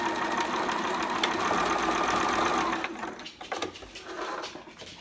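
Sewing machine stitching to the end of a seam on a bell-sleeve romper, a steady dense motor whir for nearly three seconds, then shorter stop-start bursts as it backstitches, close and fairly loud with no talk.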